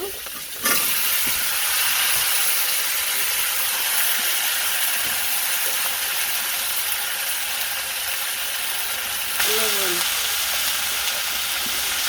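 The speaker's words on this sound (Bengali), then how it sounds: "সবজিগুলো দিয়ে দিই না ভাজানোর জন্য" Vegetables frying in a hot pan give a loud, steady sizzling hiss that runs the whole time, with a short clatter of stirring near the end and no talking.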